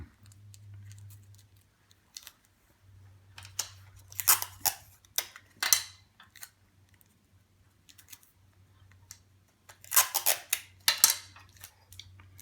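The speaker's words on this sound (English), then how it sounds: "Fortify the perforations with Scotch tape." Scotch tape is pulled and pressed onto layered paper towel in short, crackly bursts that come in clusters over a faint low hum.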